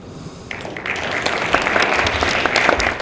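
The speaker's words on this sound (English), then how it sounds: "How about another quick round of applause?" Applause at a Black History cultural program in Greenbelt, starting quietly and swelling into a fuller round of clapping from the audience, sustained to the end.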